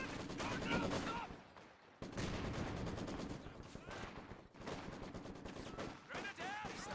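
Heavy machine gun fire in the video game Company of Heroes 2: sustained loud bursts of automatic gunfire with brief pauses around two and four and a half seconds, dense battle noise throughout.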